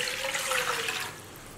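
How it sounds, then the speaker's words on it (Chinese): Water pours into a wok on a home stove before lotus leaves are blanched: a loud, steady splashing rush for about a second, then it cuts off and only a quieter hiss remains. "锅内倒水"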